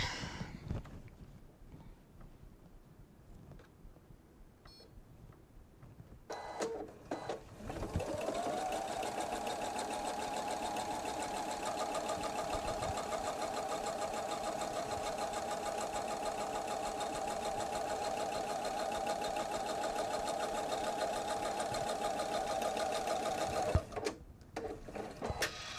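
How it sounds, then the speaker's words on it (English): A sewing machine stitches the final quilting line on a jelly roll bag, starting after a few quiet seconds and then whirring steadily at an even, close hum for about fifteen seconds before stopping abruptly. "last line of quilting"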